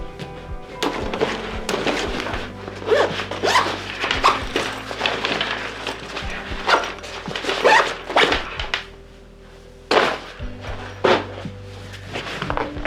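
Someone repeatedly opens and closes the fastening mechanism of a Fjällräven Rucksack No. 21 Large backpack, making a close, busy run of clicks, taps and soft thunks with brief pauses in between.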